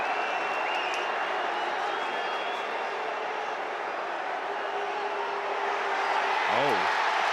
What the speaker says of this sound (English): The fans at TCU are cheering.